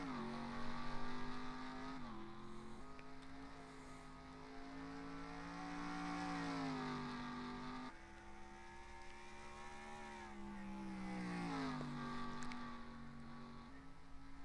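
Race cars in a racing video game roar away at the start at Bristol Motor Speedway, with a steady layered engine drone whose pitch rises and falls as the pack accelerates.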